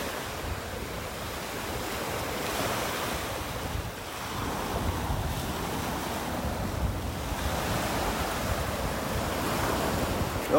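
Waves break steadily on a beach in North Naples, Florida, with an onshore breeze, a continuous rushing wash with gentle surges, close and fairly loud, mixed with wind noise on the microphone and no talking.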